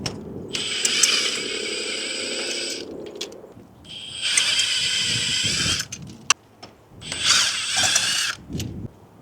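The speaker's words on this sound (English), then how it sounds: "it's okay to use impact to take spark plugs out" An impact wrench pulls spark plugs from an SR20 engine in a Nissan S13 outdoors in the cold, running in three loud close bursts of about two to three seconds each, with brief clanks between them.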